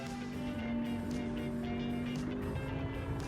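Truck engine in the driving game Euro Truck Simulator 2 holds a steady, even drone with a low rumble throughout, moderately loud and with no one talking.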